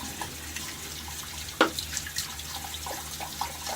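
Water poured out of a bowl while soap is rinsed from a shaving brush at a sink, a steady close splashing trickle with one sharp splash partway through and scattered drips after, with no voices.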